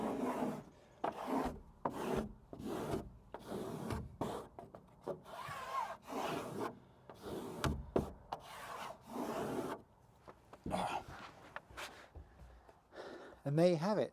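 Rubbing and rasping strokes from a squeegee pressing XPEL protective film onto a Cybertruck panel, repeated in short bursts with talk over parts of it.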